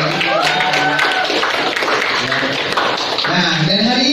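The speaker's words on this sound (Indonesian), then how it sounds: "Luar biasa, tepuk tangan sekali lagi." Applause from a group, steady and fairly loud, with voices and cheering mixed in throughout.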